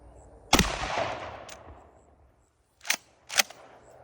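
A Benelli Supernova 12 gauge shotgun fires one 3.5 inch steel shot load, a single loud nearby blast with a long decaying tail, followed about two seconds later by two sharp impact-like cracks.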